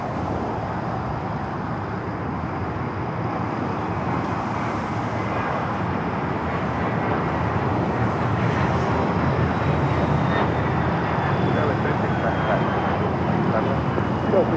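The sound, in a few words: airliner taking off from runway 25 right at LAX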